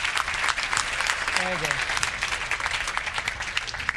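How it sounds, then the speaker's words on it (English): A seminar audience applauds a volunteer in a dense, steady burst of clapping, with a voice speaking briefly over the applause. "give him a round of applause"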